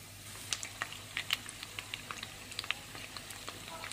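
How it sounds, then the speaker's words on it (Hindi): Coated chicken drumsticks frying in a fairly shallow layer of oil in a home kitchen, giving sparse, quiet crackles and pops at an irregular rhythm over a low steady hum. "ये चिकन मैंने डाल दिया"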